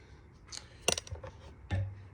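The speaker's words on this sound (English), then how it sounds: "Use a pair of scissors." Scissors snip to cut a slot in a cardboard paper or toilet paper core, a few short sharp clicks and snips close by, with no talking.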